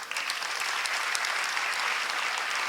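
An audience at the Haryana Literary Festival breaks into sustained applause, a dense patter of many hands clapping at steady loudness throughout, with no voices standing out.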